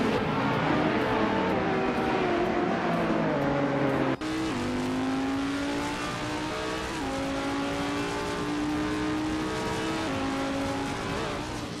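A 1996 Osella P20 BMW race car in a racing video game, its engine droning and climbing steadily through gears with a sharp shift partway, loud and continuous with no talk.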